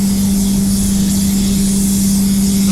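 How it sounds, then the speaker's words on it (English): Spray gun applying EnviroBase waterborne paint to a Peugeot 3008 in a warm spray booth, a steady continuous loud hiss with a constant low hum beneath, no pauses and no talking. "If anyone's got any tips for me for spraying EnviroBase in the warmer months, please do not be shy."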